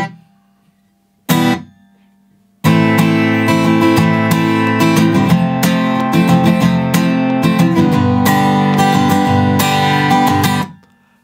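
A guitar plays the middle eight of a song: a low held note and a brief struck chord, a pause, then a run of loud strummed chords close up before it stops.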